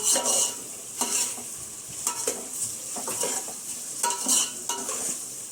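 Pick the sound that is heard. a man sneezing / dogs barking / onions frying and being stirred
onions frying and being stirred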